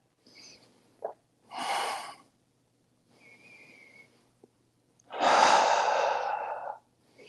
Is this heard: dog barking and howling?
no